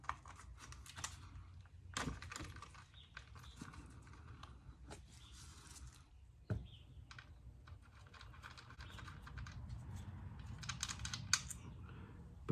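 Ratchet and socket clicking on coil pack screws of a 2018 Toyota Yaris iA 1.5L, rapid faint ticking bursts with a few sharper clacks, close and quiet, no talking.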